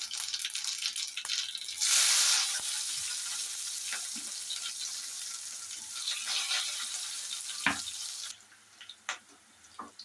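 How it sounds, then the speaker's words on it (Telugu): Hot oil crackles and sizzles as tempering spices and curry leaves hit the pan, a loud hiss surging early then settling into steady frying with small pops and clinks. "పొయ్యి మీద అయితే ఆయిల్ పెట్టాను. ఇప్పుడు పోపు వేస్తున్నాను."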